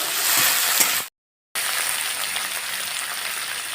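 Chopped tomato and green chili fry in hot oil in a pan for egg tadka dal, giving a steady close crackling sizzle that cuts out for a moment and then carries on evenly.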